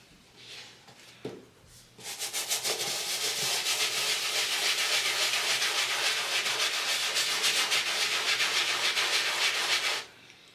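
A brush scrubs a shoe lathered with Reshoevn8r cleaning solution, a steady close rasping swish with quick rhythmic strokes that runs about eight seconds after a few brief rubs, then stops.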